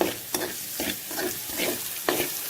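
Onions stir-fry in a pan until soft, with a close, steady sizzle and repeated spatula scrapes and knocks against the pan at irregular intervals.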